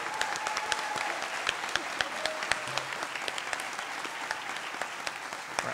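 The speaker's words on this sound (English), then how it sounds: "Let's give each of our cohort from Oak Ridge Branch Campus another round of applause" Audience applause at a Roane State Middle College cording ceremony for the Oak Ridge Branch Campus cohort, steady and sustained with sharp individual claps standing out, no talking.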